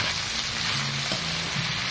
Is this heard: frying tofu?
yes